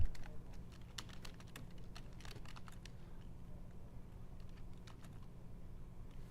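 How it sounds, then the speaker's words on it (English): Rapid typing on a computer keyboard at a desk, quick clicky keystrokes in uneven bursts, faint and close against a low steady hum. "Sometimes this keyboard just decides it's not going to keep up with my typing"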